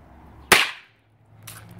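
A single sharp snap of an Aero Fireworks fuseless firecracker pops close by, followed a second later by a fainter second crack.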